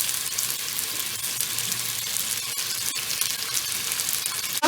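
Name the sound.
okra (bhindi) frying in oil in a pan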